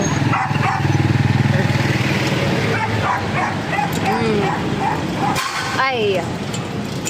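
A dog tied up on a busy, traffic-filled street barks and yips several times, its short calls rising over steady road noise and passing vehicles, with people talking nearby.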